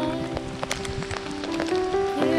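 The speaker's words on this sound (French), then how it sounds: "Il pleut, hein." Steady rain falls during a bike tour of Gaspésie and the Côte-Nord, a dense close patter of drops hitting a surface, with a constant hum beneath and no voices.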